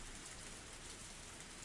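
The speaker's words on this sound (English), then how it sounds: "It had begun to rain at some point" Steady rain falls in the Higurashi When They Cry game, a soft continuous hiss with no distinct drops, quiet and even throughout.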